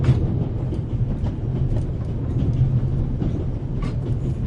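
Inside a moving train in the game The Raven, a low, steady rumble of the carriage rolls on with faint rattles and occasional clicks, constant and close, with no one speaking.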